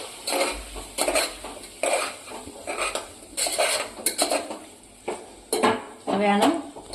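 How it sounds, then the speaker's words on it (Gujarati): A spatula scrapes and clatters around a pan as spice masala is stirred into an eggplant and potato curry, a series of repeated close metallic scrapes and knocks over a faint sizzle. "હવે આપણે આમાં જે મસાલો બનાવેલો હતો એ મસાલો નાખીશું।"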